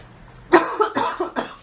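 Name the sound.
coughing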